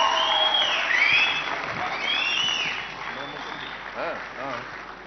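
Applause from an audience at a conference music session, a busy wash of clapping that tapers off while a voice and whistling or vocal sounds ride over it.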